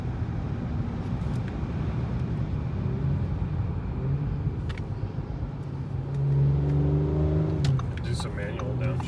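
Audi S4 B9 with a 034 Motorsport Stage 1 tune and stock exhaust, heard from inside the cabin as the engine drones and rises on manual downshifts, with soft burbling under ongoing talk.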